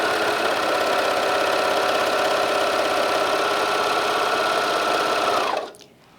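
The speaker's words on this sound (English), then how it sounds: "So at this stage I'm just doing a rolled hem. If I turn my differential feed down, we'll have a look and see what happens." A Bernina 1100DA serger sews a rolled hem with the differential feed turned down, running as a loud, steady, close mechanical whir that stops abruptly near the end.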